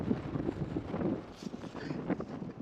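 Wind gusting across an exposed hillside on a hike in extreme weather, a steady rough buffeting that swells and eases, loud and close against the microphone.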